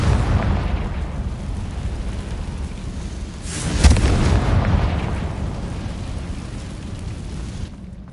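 A Confringo spell detonates in Hogwarts Legacy, a loud booming blast that rises sharply midway and then rumbles and fades over several seconds of dense, noisy roar.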